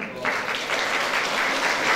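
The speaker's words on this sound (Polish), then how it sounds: "Duże brawa." A folk-festival audience gives a loud round of applause for the band from Twardowice, a dense burst of clapping that holds steady over the short span, with a voice heard at the start.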